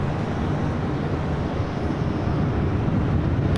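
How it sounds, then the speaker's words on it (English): An Asiana Airbus A380 at LAX produces a broad, steady roar of jet noise, constant and heavy throughout with no speech over it. "there he is, the A380 with Asiana heading back to Seoul"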